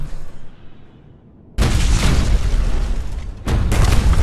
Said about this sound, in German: Ah, nicht explodieren.